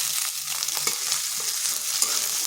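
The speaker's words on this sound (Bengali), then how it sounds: "আদা রসুনটাকে একটু ভেজে নিচ্ছি যাতে তার কাঁচা গন্ধটা চলে যায়।" Ginger garlic paste fries with onions in a pan, a steady close hiss and crackle of sizzling oil with light stirring scrapes underneath.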